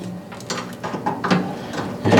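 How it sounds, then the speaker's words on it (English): A range hood light switch is pushed back up into its housing after rewiring, giving a few small clicks and plastic scrapes that sound close, with a firmer snap near the end and no talking. "From here we'll put our switch back up into place"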